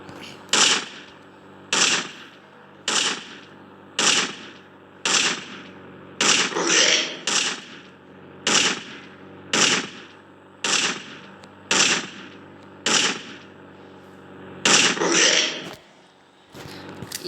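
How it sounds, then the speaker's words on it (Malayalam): Repeated gunshot bursts from a gun used to shoot zombies in an Indian bike video game, about a dozen short loud volleys at a steady, roughly one-per-second rhythm, each a quick rattling burst with brief gaps between. "എല്ലാത്തിനും വെടിവെച്ച് കൊല്ലാട്ടോ"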